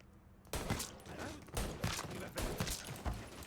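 Gunfire in the Mafia 3 video game, a rapid run of loud sharp shots in a busy burst, with several more cracks following over a dense background of game sound.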